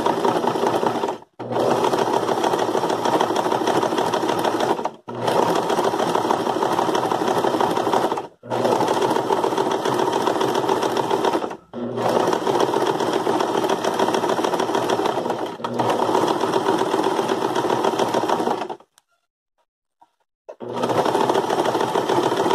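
A sewing machine runs close and loud in long continuous bursts stitching a substitute buttonhole-style stitch, stopping briefly four times and falling silent near the end before restarting.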